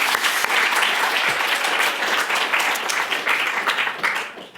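A lecture-hall audience at a distinguished innovator lecture claps loudly, a close, full burst of applause that stays dense throughout and tapers at the very end.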